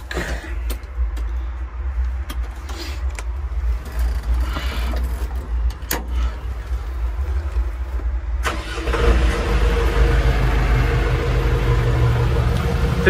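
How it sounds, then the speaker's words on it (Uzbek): A 1.2-cubic mini loader's engine cranks and starts, with a sharp rise at about 8.5 seconds into a steady, loud running rumble. Quieter cab noise comes before it. "Endi bitta yoqamiz hozir, ovozini eshitamiz."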